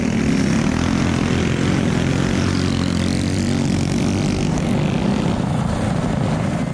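Several 2-speed go-kart engines race around a dirt circle track, producing a loud, steady, continuous engine drone with no breaks, close and unaccompanied by talk.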